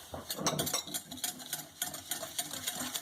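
Chocolate, vanilla and tonka dessert mixture being whisked in a bowl, with a rapid, busy rhythmic whirring and clatter running steadily throughout, fairly close and loud.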